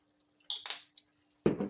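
A little Worcestershire sauce drips and splashes into ground turkey gravy in a few short, close wet bursts, with a squishy plop at the end and no talking.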